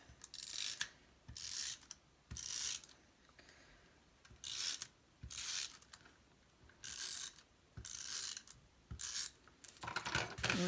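Tape adhesive runner pulled across scrapbook paper on an all-purpose mat, a series of short ratcheting rasps in regular bursts with quiet gaps between, close and crisp.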